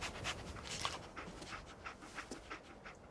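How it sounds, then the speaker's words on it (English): Rapid rhythmic panting from the dog Dogmeat in Fallout 4, close and breathy, with short sniffing puffs repeating through the clip. "Dog meat. Get the scent, boy."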